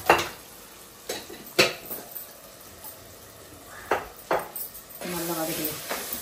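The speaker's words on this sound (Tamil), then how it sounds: "நல்லா வதக்கணும்." Tomato and onion with turmeric and chili powder being sautéed in a pan for a fish curry, with intermittent scraping and stirring clatters over a soft sizzle, a steadier frying hiss toward the end.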